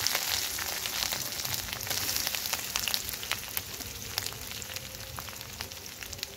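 Boiled potatoes fry in hot mustard oil with panch phoron, giving a steady, close crackling sizzle with scattered sharp pops throughout and no speech.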